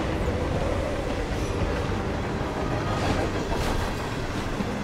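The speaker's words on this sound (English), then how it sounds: "We're on a train?" Train rolling along its tracks inside the Hitman video game, a steady mid-level rumble of wheels and carriages with faint rattling, continuous and unbroken, with no speech heard.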